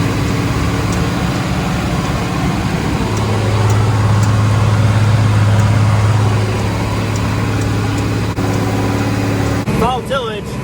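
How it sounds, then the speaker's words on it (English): An International 1086 tractor pulls an International 496 disc during fall tillage, a steady low engine drone holding throughout at moderate distance, with a few brief chirpy sounds near the end. "You got 1086 and an International 496 disc"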